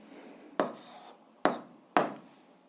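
Three short, crisp strokes of a pen or chalk writing down the answer to an eighth-grade algebra exercise, each a sharp scratch that fades quickly, close up against a quiet background with no voices.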